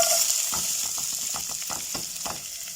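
Garlic, onion, pepper and bay leaves sizzle in hot oil in a saucepan, a steady close hiss broken by repeated soft scraping strokes of a stirring utensil, with no talking.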